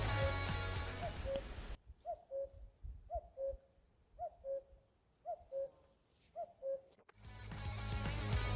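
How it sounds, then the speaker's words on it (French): A pair of common cuckoos calls from directly overhead among tall spruce trees, giving about six clear two-note cuckoo calls in a steady rhythm with no talk over them. "je suis coupé dans mon élan par un couple de coucous gris juste au-dessus de moi"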